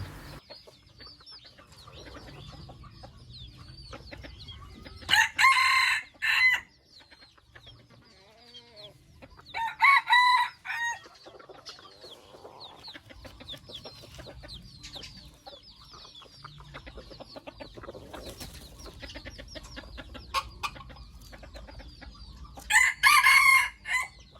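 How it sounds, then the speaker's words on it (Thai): A young decoy rooster crows three times, each a loud, close cock-a-doodle-doo, separated by long quieter stretches of soft clucking and farmyard background. "เสียงดีนะครับ ขันตัดนะครับตัวนี้"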